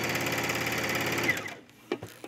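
A sewing machine stitches a gathered tunic collar in a steady rapid whir for about a second and a half, then stops, followed by a few soft handling clicks.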